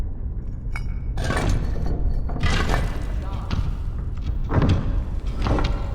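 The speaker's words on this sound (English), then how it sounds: "I love these doors, they're so cool to open." A heavy door opening in the video game Skyrim, rendered as a series of deep thuds and grinding stone-and-metal clunks, with a few clinks, over a low rumbling bed; a voice talks over parts of it.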